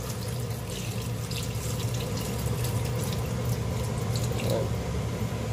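Water being poured into a pot of chicken adobo, a faint, steady pouring and splashing that runs continuously from start to finish with no talk over it.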